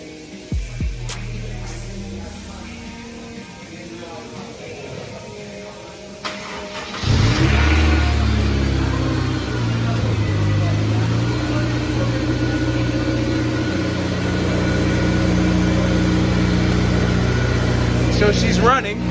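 Car engine after a throwout bearing repair: quiet shop sounds and talk, then the engine cranks and fires loudly, revs briefly and settles into a steady, rumbling idle while people speak nearby.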